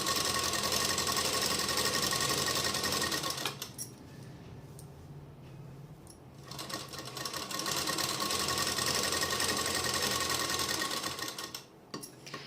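A sewing machine stitches the side seam of a lined suit with a close, rapid mechanical whir. It runs in two long bursts separated by a quiet pause and stops briefly again near the end.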